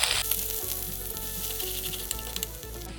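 Ginger, green chilies and garlic dropped into hot oil already holding cumin and asafoetida, a loud, dense sizzle right up close that hisses steadily throughout, with a few light stirring knocks and no voices.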